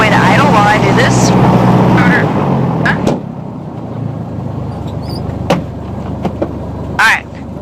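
A small training airplane's engine idles on the ground before flight, a steady low drone with a rhythmic pulse, partly under an instructor's voice and brief radio-like chirps.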